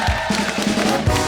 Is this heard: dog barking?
no